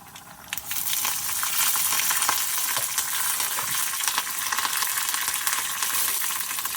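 Fenugreek seeds and curry leaves hit hot oil in a pan for a South Indian okra curry, bursting into a loud, bright sizzle with crackling pops that carries on steadily and close.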